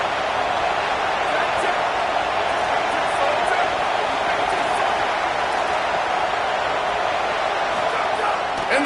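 A loud, dense roar of a large stadium crowd at an Arkansas vs Wisconsin college football game on 3rd and goal fills the space continuously, with an announcer's voice talking over it.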